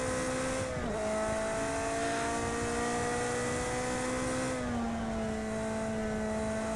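Ferrari 355 engine in the racing game Project Cars 2, a steady high revving drone with a brief pitch dip and shift near the start and again later, sustained and fairly quiet throughout.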